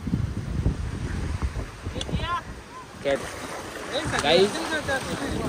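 A boat rides across open water along the Konkan coast. Wind buffets the microphone and water washes past while people talk and call out nearby.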